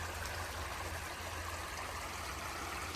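Creek water flowing steadily in a backyard, a soft continuous rushing and trickling with a low rumble, heard alone without voices.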